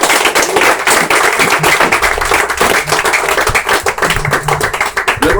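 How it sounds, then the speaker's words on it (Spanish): A church congregation claps loudly and continuously for several seconds, a dense, steady wash of many hands close by. "Dele un fuerte aplauso al Señor"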